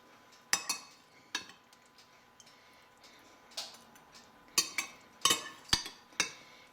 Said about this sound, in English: Now I'm going to fill my pepper with the red beans and rice, and I'm again going to use the slotted spoon.